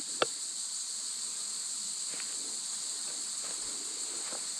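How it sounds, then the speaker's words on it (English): Crickets chirping deep in a forest in Western Australia's Great Southern, a steady high-pitched insect drone that carries on throughout, with a few faint rustles and ticks underneath. "You can actually only hear crickets."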